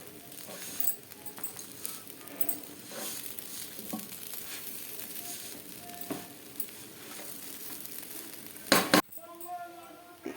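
A khichdi mixture being sautéed in a pan, with steady stirring scrapes and soft sizzling plus occasional utensil clinks, ending in a sharp louder clatter near the end.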